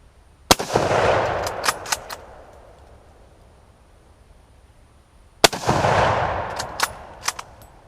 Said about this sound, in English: that heater doesn't seem to do much whenever it has, 30 caliber steel core penetrators going through it